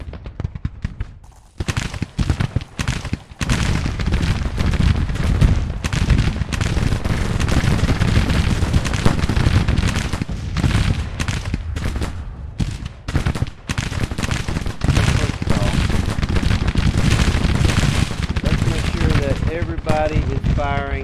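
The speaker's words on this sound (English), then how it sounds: "Everybody is firing long range." Civil War troops firing in the Grand Tactician strategy game, a dense, loud, continuous crackle of massed musket volleys with sharp individual shots cutting through, lasting throughout with brief lulls.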